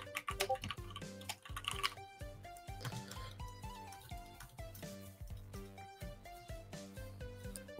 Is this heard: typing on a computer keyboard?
yes